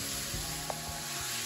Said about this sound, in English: I'm gonna add the onions.